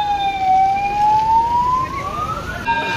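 An ambulance siren wails past on the crowded first day of the Ambubachi Mela 2025, a steady, fairly loud tone that sags and then climbs again over roughly three seconds above the road noise.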